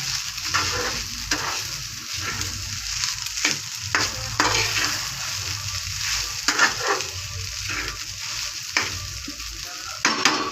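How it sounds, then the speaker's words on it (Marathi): Sabudana khichdi with crushed peanuts being stirred in a frying pan, a continuous sizzle broken by repeated scraping strokes of a spoon at a steady rhythm, close and fairly loud, no talking. "छानपैकी सगळं मिक्स करून घ्यायचं हलवून."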